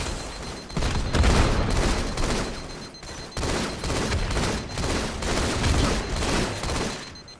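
Grenades go off in a Halo: The Master Chief Collection multiplayer match, a sustained barrage of loud, booming blasts and crackling gunfire layered almost continuously, with a brief lull midway.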